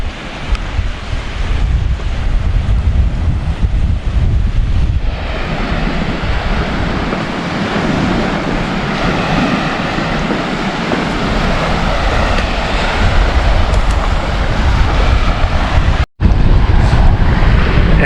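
Waves wash onto the Lake of the Woods shore in Minnesota under heavy, gusting wind buffeting the microphone, a continuous loud rumble of surf and wind with a brief dropout near the end.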